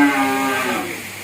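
A black cow at a busy cattle market lets out a single loud, close moo that sustains and slowly fades across the whole moment, with no talk over it.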